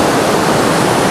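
Rushing water of a clean mountain stream near Gilgit, a loud, steady, broadband roar with no pauses, close to the microphone.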